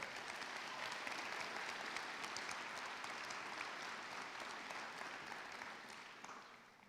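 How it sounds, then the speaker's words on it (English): Audience applause at a high school commencement ceremony, a steady, dense wash of clapping heard from a distance that holds level and then fades slightly toward the end. "Can we please give them a round of applause?"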